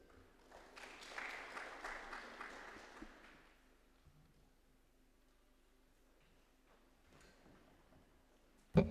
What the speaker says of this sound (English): Can give our panelists a round of applause.